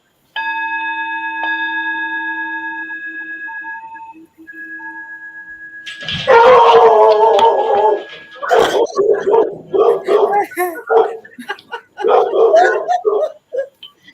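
A dog howls along with sustained sound-healing tones during a spiritual message circle; long steady resonant tones ring first, then loud wavering howls rise and fall in repeated bursts over them.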